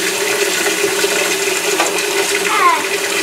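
Tap water runs steadily into a kitchen sink while dishes are washed, a continuous splashing hiss with faint clinks of utensils and a brief squeak near the end.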